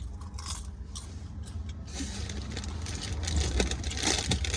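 Close-up crunchy chewing of spicy red masala popcorn, with repeated crisp bites and munching that grow louder toward the end.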